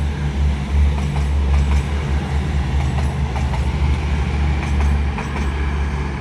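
A CrossCountry Class 220 pair, 220-001 leading and 220-014 on the rear, moves off at York station with a loud, close, steady rumble of engines and wheels that holds throughout with no talk.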